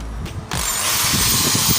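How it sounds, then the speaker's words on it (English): An ordinary metal power drill bites into concrete during a DStv dish installation, starting abruptly after a brief pause and then holding a loud, steady grinding whir until the end. "You can use an ordinary metal drill to drill concrete"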